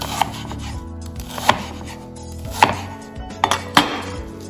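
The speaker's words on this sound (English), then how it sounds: "And then I'm just cutting it into little squares like so" A knife chopping frozen bacon into small squares on a board, giving about six sharp, close thuds at an irregular pace, with soft rubbing and low hum between cuts.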